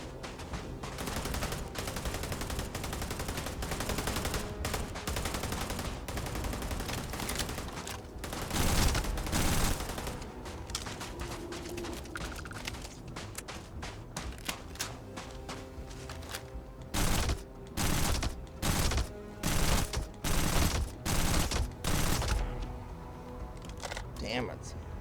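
Gunfire in Starfield Shattered Space, sustained loud volleys and sharp shots throughout, breaking into separate punchy bursts near the end, with voices talking over the fighting.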